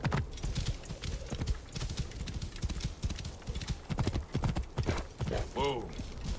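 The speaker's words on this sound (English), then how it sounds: "This must be Mered's horse." A horse's hooves clip-clop steadily in Assassin's Creed Origins, close and rhythmic under someone speaking, with a brief horse whinny near the end.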